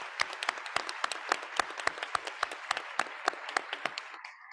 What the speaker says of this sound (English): So let's give a round of applause to Shasta College.